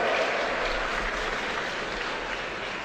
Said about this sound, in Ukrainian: Ваші оплески фіналіста Микола Лактіонов